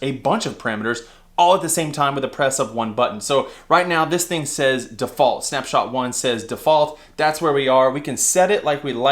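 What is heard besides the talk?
No distinct noise like a dog, phone or traffic.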